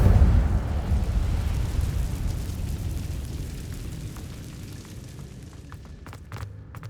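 An Incendio fire spell cast in a Hogwarts Legacy cave, opening with a heavy, roaring burst that decays into a long rumbling whoosh, followed by a few faint clicks near the end.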